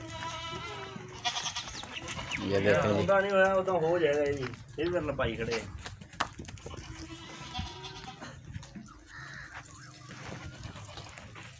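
Goat bleating loudly in several drawn-out cries as men struggle to catch it, mixed with nearby voices and a bustling livestock-market background.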